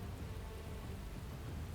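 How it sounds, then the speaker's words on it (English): Steady rain patters on a surface with a dense, even hiss and low rumble throughout, heard alone without talk. "Sorry for the rain noise there."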